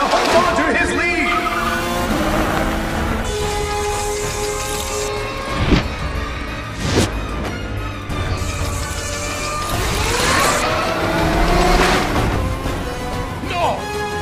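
Race cars roar around a track, engines revving and passing with tire squeals and skids, while voices talk over the racing noise.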